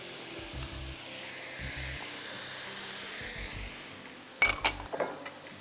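Tomatoes tipped into a hot pan for peanut soup set off a brief burst of sizzling and clinking near the end, after a long stretch of steady frying hiss.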